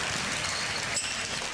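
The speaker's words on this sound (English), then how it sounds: "cheering section here from Fraser" Broadband crowd cheering and clapping from a high school all-star boys basketball game, with the Fraser cheering section in the stands; a steady, fairly loud wash of noise with no clear talk.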